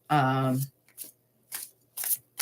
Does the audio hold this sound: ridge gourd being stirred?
no